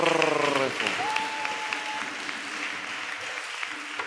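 Church congregation applauding during a worship service, a dense wash of clapping that runs throughout, with a sung note and a sustained tone fading out early and light voices mixed in.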